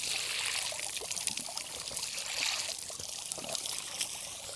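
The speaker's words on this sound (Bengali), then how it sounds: "আমরা মূলত দেখতে পেলাম যে এই এই নল, ছোট্ট নল চলছে অনেকক্ষণ ধরেই।" A small tap left running by a street wastes water in a light, steady trickle and splash, faint against outdoor background noise.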